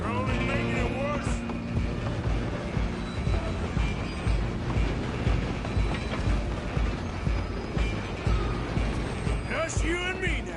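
A moving train in Red Dead Redemption 2 rumbles and clatters continuously at close range, with rhythmic wheel thumps and occasional squeals, under spoken dialogue throughout.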